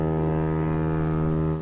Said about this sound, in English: the keeper needs to keep the light on and the foghorn working